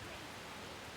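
Rain in the video game Persona 5 Royal falls as an even, continuous hiss, steady and moderately quiet, with no talk.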